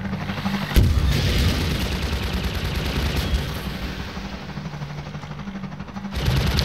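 Rapid bursts of gunfire in the video game Half-Life 2 crackle continuously over a dense, booming background, loud and sustained, with a heavier blast near the start.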